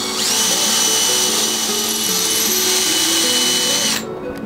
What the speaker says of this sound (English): I want to hold everything together really nice and tight, and then go ahead and drill.